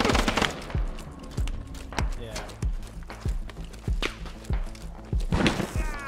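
Video game gunfire: a series of distinct, evenly spaced shots, some near and some farther off, with players talking over the firing.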